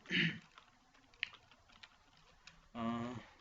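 Fingers tap on a computer keyboard while text is entered into a Microsoft Word document, a quiet run of scattered clicks in the middle, with bursts of speech at the start and end.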